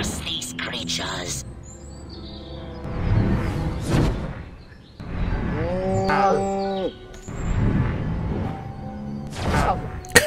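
Cows mooing in the video game Destroy All Humans!, with several long, drawn-out moos at close range over the game's background effects.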